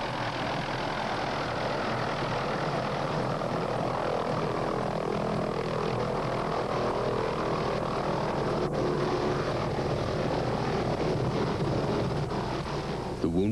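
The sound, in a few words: Hughes 500 medical evacuation helicopter arriving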